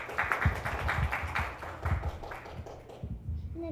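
Applause at a school concert, a modest group clapping in an uneven patter that thins out toward the end.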